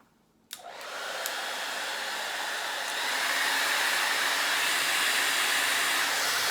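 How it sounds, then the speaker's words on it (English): A Harry Josh blow dryer with an ion switch switches on abruptly and runs at high heat and high power, a loud steady whoosh that grows slightly stronger midway and continues alone. "What's interesting about this Harry Josh blow dryer is that it has an ion switch."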